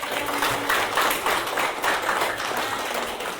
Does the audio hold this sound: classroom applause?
yes